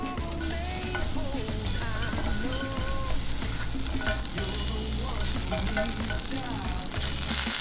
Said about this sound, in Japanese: そしてキノコを炒める